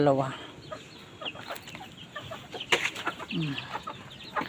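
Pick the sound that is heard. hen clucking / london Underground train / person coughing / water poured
hen clucking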